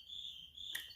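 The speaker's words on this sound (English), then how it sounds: "Listen to those crickets." Crickets chirp at night outdoors in a steady, continuous high trill, with a brief louder burst near the end and no one speaking.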